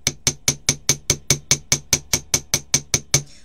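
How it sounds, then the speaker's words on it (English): A hammer taps a flat wire-wrapped butterfly bracelet gently, about fourteen bright, evenly spaced metallic strikes in a steady rhythm, close and alone. "you perhaps don't want to hammer it really, really hard. So a gentle tap"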